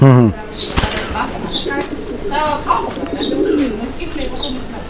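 Raj Golla pigeons in a loft give close, throaty coos while wings flap briefly near the start, followed by a few higher chirping calls over a steady background murmur.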